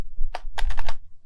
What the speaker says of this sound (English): you just have to type conda env list and then enter